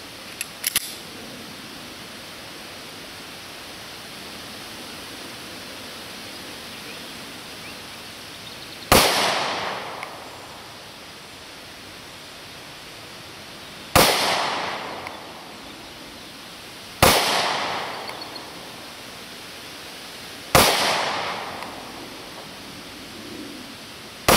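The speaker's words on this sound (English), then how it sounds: "I'll be shooting, obviously sitting down, using my knee as a rest so we can gauge the accuracy of the gun" Four sharp, loud Kahr PM9 pistol shots crack out at an outdoor range, each trailing off in a brief echo and spaced a few seconds apart, with quiet stretches and faint clicks between them.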